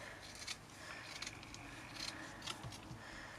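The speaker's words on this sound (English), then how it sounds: "I'm just going to trim down here" Scissors trimming fabric for a removable page divider: soft, close snips and light scraping in an irregular rhythm, quiet against a faint background hiss.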